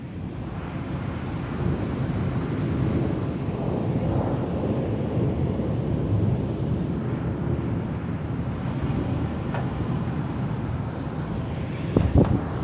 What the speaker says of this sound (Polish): No i jednak przyszła burza,